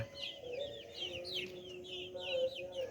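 Several chickens cluck and chatter in short, repeated bursts nearby, with a steady faint hum running underneath.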